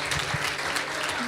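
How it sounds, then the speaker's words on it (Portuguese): A church congregation at a Sunday consecration service in Portuguese applauds, dense clapping from a crowd that holds steady through the brief moment, with a voice faintly audible beneath. "Dê uma salva de palmas para esse povo."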